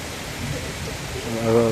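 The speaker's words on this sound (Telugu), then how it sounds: "భారీ వర్షాలు ఎదురుగాలితో కూడిన భారీ వర్షం." Heavy rain driven by a strong headwind roars as a broad, rushing wash of noise, with a brief tonal hum rising near the end.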